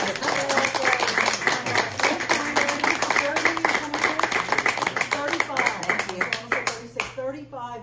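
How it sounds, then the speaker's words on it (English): Audience clapping for an artist at a March 2023 artist talk, scattered claps running throughout and mixed with lively voices and cheers from the crowd. "Does anyone want to give him a little applause?"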